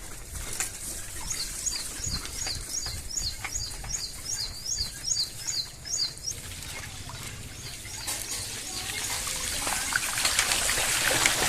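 Strong water rushes across a village road, a constant wash and trickle close by with birds chirping over it for a while, then the flow swells louder toward the end.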